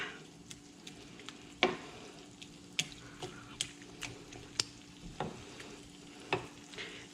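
Chicken livers in plenty of liquid are stirred in a pan, with a soft simmering sizzle beneath and intermittent sharp clacks of the utensil against the pan. The sound is close and fairly quiet, with no voices.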